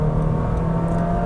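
A 2022 Honda City RS with a 1.5-liter engine, held in S mode, drones steadily under acceleration, a constant engine hum from inside the cabin with no talk.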